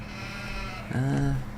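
Sheep bleating in the farming video game Farming Simulator 15, a single clear, wavering bleat rising out of low background noise near the end.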